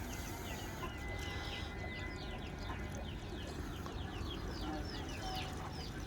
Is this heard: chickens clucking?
yes